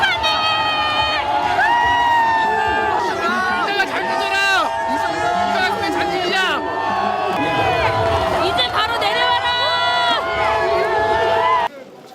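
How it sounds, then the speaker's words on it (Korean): A crowd of South Korean citizens cheers at news that the presidential impeachment motion passed. Many voices shout and whoop together in a loud, continuous roar that stays close and dense, then drops suddenly at the end. "시민들은 환호성을 질렀습니다."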